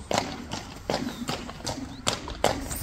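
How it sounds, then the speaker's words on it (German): A loose horse runs freely near a roadside bus stop, its hooves clip-clopping in a steady, fairly close rhythm of sharp strikes on hard ground. "Guck mal, da vorne ist ein Pferd, ohne Besitzer. Der rennt hier rum."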